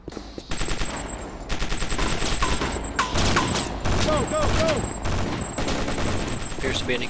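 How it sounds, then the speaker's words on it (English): Sustained automatic gunfire rattles in dense bursts during a firefight in the video game Chaser, loud and nearly continuous, with a few whistling and ricochet-like tones layered over the shooting. "Appears to be an exchange of fire going on above us."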